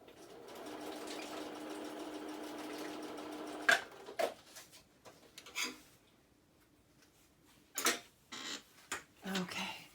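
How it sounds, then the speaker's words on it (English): A sewing machine stitches through a paper booklet with a steady, fast mechanical whir for several seconds, then stops, followed by scattered clicks and paper handling. "I'm just going to go to my machine and sew that rather than gluing it"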